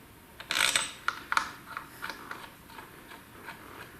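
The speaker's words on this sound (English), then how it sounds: "then I'll tighten it down with my air ratchet" An air ratchet runs on bolts of a GM 9.25 front differential for a 3/4 and 1 ton Chevy/GMC truck, giving a quick burst of clicking and whirring followed by lighter, faster ticks.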